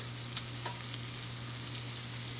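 Steady sizzling of onion and garlic frying in a hot pan, a constant crackling hiss with a few small pops, close and alone.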